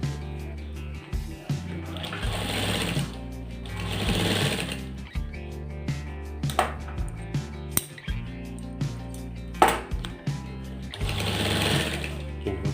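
A sewing machine stitches a shirt in steady runs broken by brief stops, the motor whir and needle chatter loud and close.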